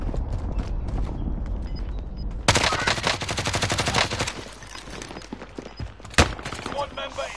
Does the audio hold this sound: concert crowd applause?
no